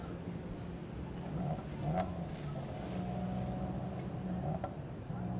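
SL-GT race cars up to 3500cc idle and rev on the grid before a race start, a steady throbbing engine drone with repeated short blips of throttle, moderately distant with crowd-like background noise.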